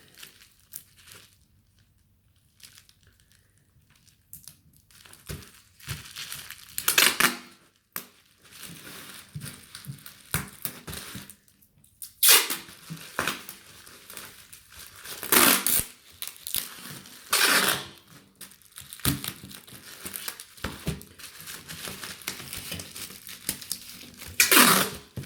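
Brown packing tape pulled and pressed over a bubble-wrap and cardboard laserdisc package, with bursts of crinkling, tearing and rustling that come and go at close range, quiet at first and then busier and louder.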